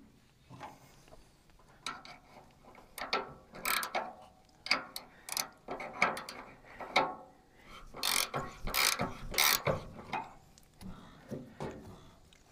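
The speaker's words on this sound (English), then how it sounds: "Tighten that jam nut." An adjustable wrench tightening a jam nut on a Frontier OS27 overseeder, giving a series of sharp ratcheting clicks and metallic clanks in irregular bursts, close by and moderately loud, with no talking.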